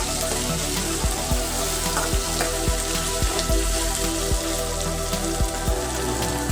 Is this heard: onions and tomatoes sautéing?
yes